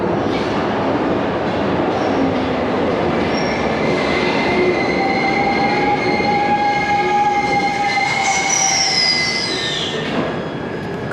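A Glasgow Subway train in Scotland rumbles in close and loud, wheels squealing and screeching in rising and falling tones as it pulls into the station.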